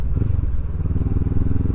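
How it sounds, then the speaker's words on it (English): A 2023 Honda CB500X motorcycle fitted with an Arrow exhaust can gives a short, close, throbbing burble with a rapid pulsing beat. "an exhaust can, arrow, which makes it sound a bit fruity."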